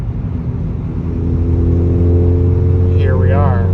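A car fitted with a TCR muffler and downpipe exhaust cruises down a highway, giving a steady low droning rumble that swells slightly, with a voice briefly audible near the end.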